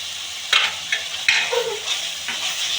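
Onions frying in hot oil for a spicy Indian chicken curry are stirred in the pan. Close, sharp scrapes and clanks break over a continuous sizzle, with no one speaking.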